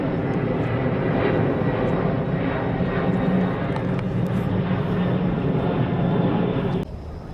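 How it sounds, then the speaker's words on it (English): Airplane passing overhead outdoors, a steady broad engine roar that stays loud and constant before cutting off abruptly near the end. "Can you see the plane?"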